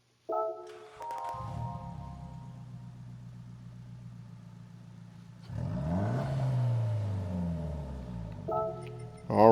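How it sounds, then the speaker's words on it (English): A 1996 Nissan Silvia K's Aero S14 in Gran Turismo 7 starts up and settles into a steady mid-pitched idle, then revs up and back down midway, with short menu chimes at the start and end. "we'll listen to the startup sound"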